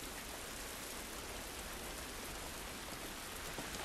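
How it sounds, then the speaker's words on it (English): Steady rainfall in The Last of Us on PS5, a dense, even hiss of drops pattering on surfaces, continuous and fairly quiet, with no speech. "This rain ain't gonna do us any good."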